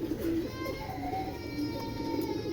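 Giribaz pigeons give a low, throaty cooing that runs steadily at close range over a continuous murmur of background noise.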